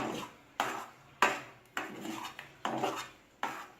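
A spoon scrapes through a thick, sweet offering mixture in a pan, about six quiet, evenly spaced stirring strokes, each a sharp scrape that fades out.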